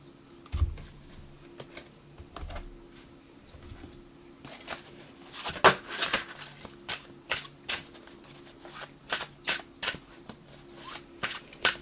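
Tarot cards being shuffled by hand, a soft sparse riffling at first, then a run of crisp, rhythmic card flicks and snaps close by, with no talking.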